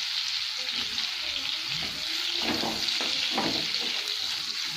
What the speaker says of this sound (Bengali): আমি ফুলকপিটা সাদা তেল আর বাটারে ভাজব